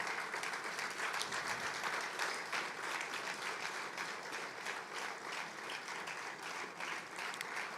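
A conference audience gives sustained applause for a keynote speaker, a dense, even wash of many hands clapping that holds steady for several seconds at moderate volume.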